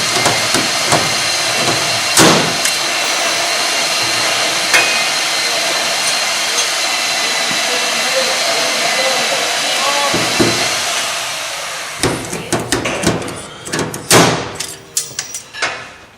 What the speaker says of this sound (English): you want to alternate your rivets so you don't warp the panel